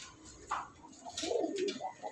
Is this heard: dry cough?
no